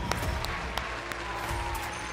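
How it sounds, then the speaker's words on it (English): A crowd applauds steadily at a celebration after winning a game, with sharp claps and cheering spread evenly through the moment, no talking. "Let's get a round of applause"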